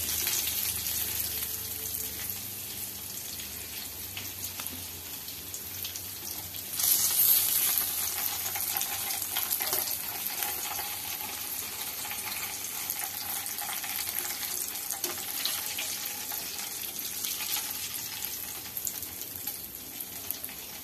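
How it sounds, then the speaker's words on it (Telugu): Fish frying in oil gives a steady, fairly loud sizzle with continuous broadband hiss, swelling briefly partway through, with no talking. "చేపలు ఫ్రై అయినాయి."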